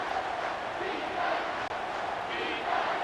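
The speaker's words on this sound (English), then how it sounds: "This crowd is trying to inspire this defense to make a big red zone stop." Stadium crowd noise in the video game College Football 25, during a late-game red zone stand in Georgia vs Texas. A steady, dense roar from a big crowd holds at an even level throughout.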